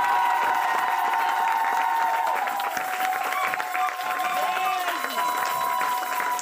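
A church congregation at a special service acclaims and applauds the Lord, a dense sustained wash of clapping and crowd voices with a held musical tone running through it, loud and continuous throughout.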